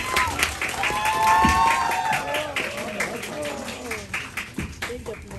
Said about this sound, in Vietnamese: Chúng ta hãy dành một tràng pháo tay thật lớn để chúc mừng cho cô gái xinh đẹp của chúng ta nha.